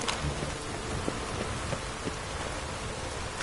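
Heavy rain pours steadily through a thunderstorm in The Witcher 3, a dense, constant hiss with low thunder rumbles rolling underneath and no talk.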